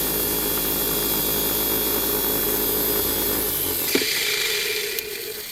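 A slot car motor spins at high speed on a dyno, a steady whining buzz that cuts off abruptly near the end, leaving a quieter fading hum.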